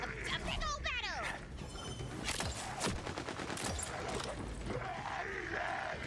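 Gunfire in the fantasy shooter Tiny Tina's Wonderlands from a weapon-wielding zombie gunner, rapid repeated shots and crashes within dense game effects and music, heard under ongoing talk.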